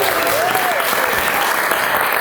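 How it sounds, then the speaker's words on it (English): A wedding reception crowd breaks into a loud, sustained round of applause after the speeches, thick continuous clapping with cheering mixed in from start to finish. "if we can just give them a round of applause"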